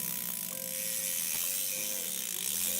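A bicycle chain is pedaled backward, and the freewheel gives off a continuous fine ratcheting click over a faint mechanical hum, close and steady with no voices.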